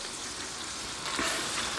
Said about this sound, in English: Get them back in there and get them frying.